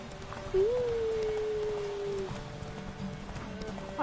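A horse in The Witcher 3 gallops with a rapid clip-clop of hooves and gives a clear whinny near the start. The hooves go on steadily at a moderate level, with no talk.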